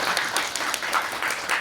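A Korean studio audience claps for guest Daniel Lindemann, brief dense applause with a rhythmic pulse, fairly loud and close.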